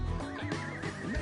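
A horse at an equestrian centre gives a loud, close whinny with a wavering tone that rises and falls, while faint hoof sounds mix in underneath.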